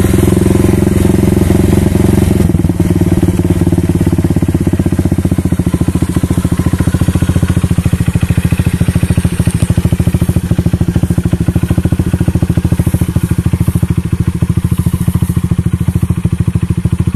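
A Yamaha New Megapro motorcycle with an R9 Valencia aftermarket exhaust idles steadily and loudly up close, with a deep, even exhaust rumble and a faint crackle throughout.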